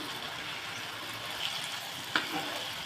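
Chicken 65 pieces fry steadily in a little oil, a soft continuous sizzle close by, broken by a couple of faint clinks as the pieces are turned.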